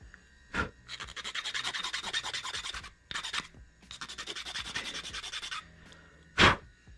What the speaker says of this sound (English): this is actually where I should sand